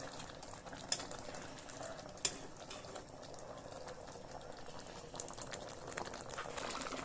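Bhola fish curry with coriander leaves simmering in a pot, a soft, steady bubbling hiss with faint occasional pops, quiet and continuous.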